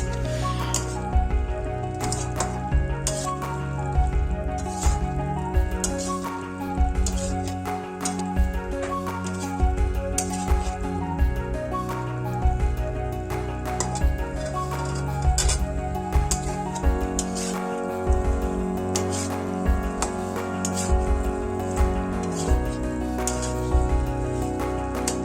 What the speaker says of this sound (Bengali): আলুগুলোকে এর মধ্যে দিয়ে ভালো করে নাড়িয়ে চাড়িয়ে নেওয়ার পর